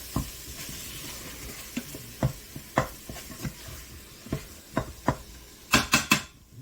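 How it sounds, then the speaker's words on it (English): Sausage and onions frying in a pot for a slow-cooked sausage and cabbage soup, a spoon stirring with a string of distinct scraping clacks, a quick cluster of three near the end, over a low steady sizzle. "Make sure you continue to keep stirring your onions and your sausage over there."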